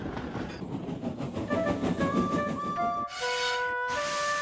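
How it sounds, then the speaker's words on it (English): Steam engine hauling a rake of trucks along a railway line, rumbling and rhythmic clatter of wheels on rails with sustained whistle-like tones rising over it toward the end. "Presently, Duck took some trucks to Edward's station."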